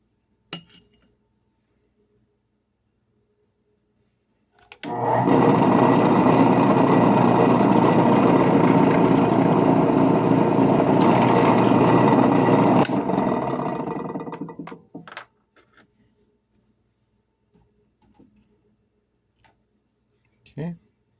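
Machine cutting aluminum parts and throwing chips, a steady loud broadband whine and clatter lasting about ten seconds before winding down, with brief clinks after and quiet surroundings.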